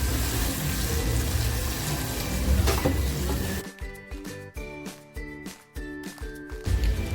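Water splashes into a hot pan of cooked masala for eggplant with a loud hissing sizzle, followed by bubbling and a few sharp clatters as it settles.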